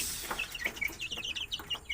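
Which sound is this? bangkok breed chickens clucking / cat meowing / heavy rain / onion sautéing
bangkok breed chickens clucking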